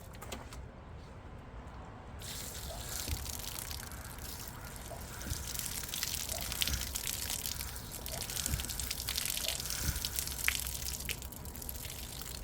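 A garden hose runs in a steady hissing gush that begins after a short pause and continues evenly, faint and somewhat distant, with occasional splashes and no speech.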